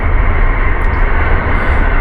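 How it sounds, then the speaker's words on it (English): A passing train gives a loud, steady low rumble with broad roaring wash throughout, close and continuous, no voices. "The train is going by."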